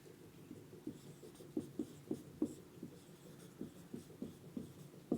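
Writing on a board during a Class 12 physics lesson on current electricity, heard as faint, steady scratchy strokes with regular short accents over quiet room noise.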